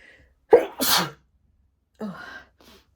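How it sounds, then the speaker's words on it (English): One close human sneeze, a sharp intake and a burst of breath, then a short pause and a softer sniff or exhale after it. "I feel like I'm going to sneeze, hang on a sec."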